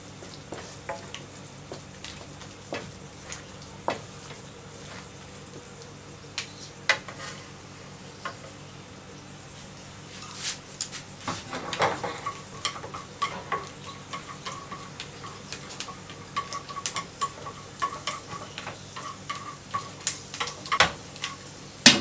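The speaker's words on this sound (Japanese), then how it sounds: "アーモンドに焦げ目が少しつくようになったらそれで OK です。" Almonds toast in a dry pan for Japanese curry, a long stretch of light rattling and clicking as they are stirred, growing busier toward the end, close and fairly quiet with no talk.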